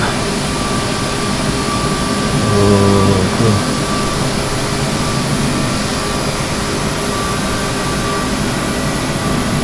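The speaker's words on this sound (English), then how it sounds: "I love hearing the engines pulling up." CRJ700 jet engines spooling up, a loud steady roar with a rising whine filling the whole stretch, heard from inside the aircraft, with a brief spoken exclamation partway through.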